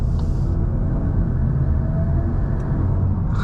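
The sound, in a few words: VW MK8 Golf R turbocharged engine while driving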